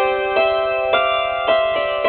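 Chords on a dulcimer are strummed again and again in a slow, even rhythm, ringing in bright layered tones. The instrument is close and alone with no talking.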